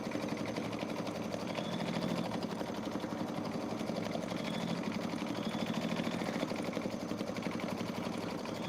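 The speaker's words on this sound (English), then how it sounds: "And this is a 2-minute stitch out, so it'll only take a moment." An embroidery machine steadily stitches out a quilting design on Kimberbell clear blue tiles, producing a constant mechanical whir with a fast, even needle rhythm, moderately quiet and heard alone.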